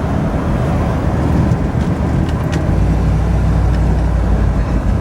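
Steady low rumble of a cold Ford truck's exhaust idling through a newly made tail pipe, an even, throaty burble sitting close and continuous with broadband noise above it.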